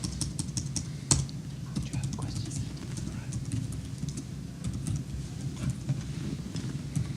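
Rapid, uneven keyboard typing runs throughout at close range, with clustered key clicks and one sharper tap near the start, over a low background murmur.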